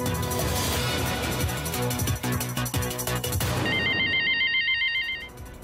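Telephone ringing on a television business hotline as a caller comes through, an electronic ring pattern emerging over loud music that fades out, leaving the repeated warbling tone nearly alone at the end.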